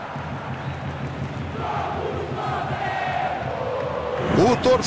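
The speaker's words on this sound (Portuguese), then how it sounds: "Torcedor aplaude" Stadium crowd of football fans in the PES 2020 video game, a steady swelling roar of cheering and applause, with commentary voices over it near the end.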